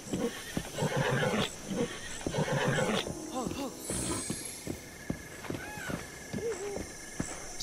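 A horse in the Zelda Breath of the Wild video game neighs and whinnies several times with a rising, wavering call, mixed with game sounds and someone talking over it.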